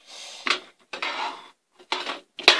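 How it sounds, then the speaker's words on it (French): A small glass vial being closed with its lid: a few short scraping and clinking bursts of glass and cap, close and crisp, separated by brief silences, ending in a sharp tick, no voices. "je vais refermer ma fiole avec mon couvercle"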